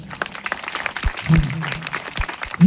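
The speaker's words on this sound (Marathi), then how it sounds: "प्रथम सर्वांनी जोरदार टाळ्या वाजवायच्या." An audience claps for the performing artists at a stage event, with loose, scattered applause of many hands rising and falling for a few seconds before a louder burst at the end.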